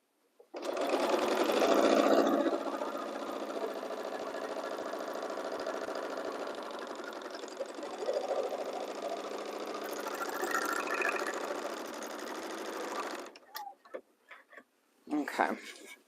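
A sewing machine stitches a Tate romper, running in one long, even mechanical whir for about twelve seconds before stopping, followed by a few brief clicks and handling noises.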